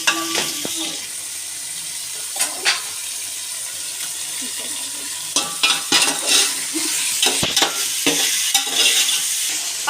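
Pulao is stirred in a pan, with repeated scraping and clattering strokes over a continuous loud frying sizzle and occasional watery gushes, close and prominent.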